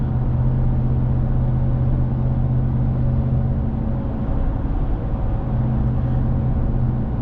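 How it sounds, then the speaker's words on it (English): Ram TRX pickup with an aftermarket exhaust cruising at 70 mph, a steady low engine drone and exhaust hum with road roar, unbroken and fairly loud throughout. "I'm cruising right now 70 miles an hour."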